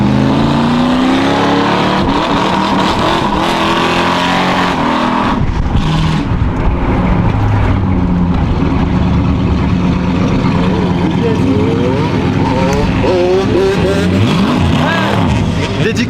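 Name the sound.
loud Dodge Dart car engine driving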